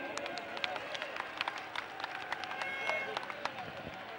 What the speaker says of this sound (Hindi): एक बार इन सब के लिए जोर से ताली